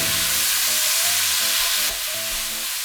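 Meat frying in a pan with green beans, soy sauce and vinegar in a Chinese-style stir-fry, a steady close sizzle with stirring scrapes throughout and a sharp clatter near the end, no voices.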